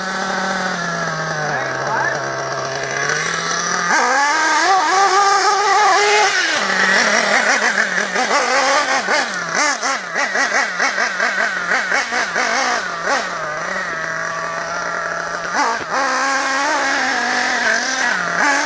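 Kyosho Inferno NEO Race Spec nitro RC buggy revving and accelerating on a farm hill climb, a loud continuous buzzing engine with rising and falling pitch throughout, while people talk over it.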